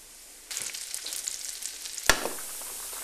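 Cubes of tofu breaded in chickpea flour hit hot fat in a pan and start a steady, close sizzle, with a sudden loud spatter burst midway before the frying settles again.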